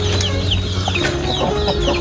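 Chickens cluck and chatter close by in a continuous overlapping flurry of short calls, with farmyard background hum.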